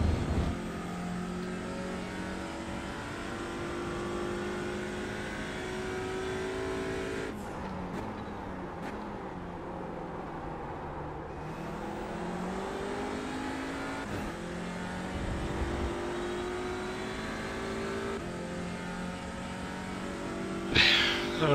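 A simulated Audi TCR race car engine on the Hockenheim circuit in iRacing drones and revs through a lap. It drops away and climbs with gear changes, loud and continuous, with no speech.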